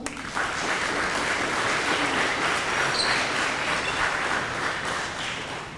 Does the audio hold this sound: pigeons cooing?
no